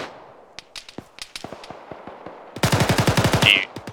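Automatic rifle fire during squad training: scattered single shots and short bursts, then a loud, rapid sustained string of close gunfire near the end.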